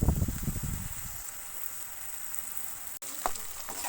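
Fried rice sizzles in a pan, with a burst of stirring and scraping at first, then a steady, quiet crackle and a few clicks near the end.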